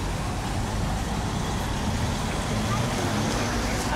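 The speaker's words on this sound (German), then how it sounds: "Auto!" Car passing along a town street, a broad rolling roadway rush that builds and lingers amid general street noise, with people talking nearby.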